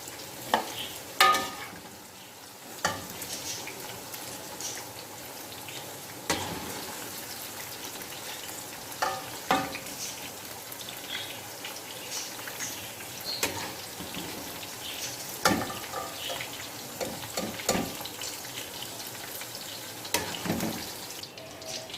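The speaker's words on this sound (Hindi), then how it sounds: "भिंडी हमारी हो गई है फ्राई। हम इसको फ्राई करके अब निकाल लेंगे।" Okra (bhindi) fries in oil for a masala bhindi dish, giving a soft, steady crackle with scattered clinks and stirring knocks through the pan.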